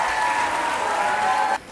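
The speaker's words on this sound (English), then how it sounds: "Let's welcome her with a huge round of applause." A school audience at a grand finale event claps together in a loud, sustained burst of applause that cuts off sharply near the end.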